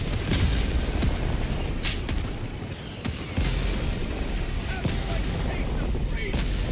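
Dense combat noise from Helldivers 2: continuous booming gunfire and thudding explosions from automated sentry turrets, loud and chaotic throughout, with several sharp blasts standing out over a steady rumble and voices talking over it.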